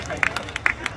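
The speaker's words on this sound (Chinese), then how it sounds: "来给蔡家燕掌声鼓励" A handful of sharp, scattered claps ring out for a batter at Douliu Baseball Stadium during a Taiwanese winter-league game, brief and fairly close over a low crowd murmur.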